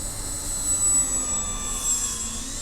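An Avios BushMule RC plane takes off from snow into a slight headwind without flaps, its electric motor giving a steady high whine that swells and fades slightly, heard alone.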